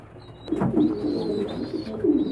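A homing pigeon coos up close, giving a few soft, throaty coos in a short run against a quiet background.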